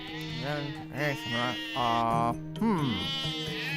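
Sheep bleating in several wavering, drawn-out calls one after another, fairly close and clear, with no talk over them.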